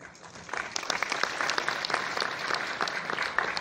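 Applause in an auditorium hall at Lok Bhavan secretariat, a moderate, steady patter of many hands clapping for several seconds.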